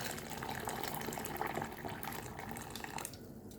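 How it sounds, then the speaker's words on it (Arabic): Hot water pours into a cooking pot holding drained chickpeas that were soaked since morning, a steady close gushing and splashing fill that runs for several seconds, then thins toward the end. "هنحط عليه ميه سخنه"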